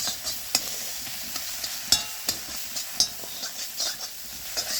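Steady sizzling of chilli and turmeric spices frying in a pan, broken by a series of short scraping clicks as a utensil stirs it.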